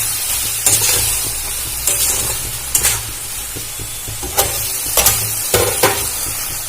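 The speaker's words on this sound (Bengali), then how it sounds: "এবার এটা খুব ভালো করে নাড়াচাড়া করে ভেজে নেব" Spices being stirred and fried in a pan for Bengali chhatu bati chorchori with poppy-seed spice water added, a steady sizzle broken by several sharp scraping stirs, close and loud, no voices.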